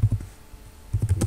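Keys on a computer keyboard clatter in two short bursts of quick typing separated by a brief pause, close and crisp with no voice.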